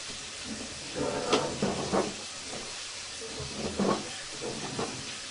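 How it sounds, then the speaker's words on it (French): Water runs from a tap somewhere in a building as a steady, fairly faint hiss, with a few soft knocks and swells over the flow and no voices. "Ça, c'est un robinet, ça."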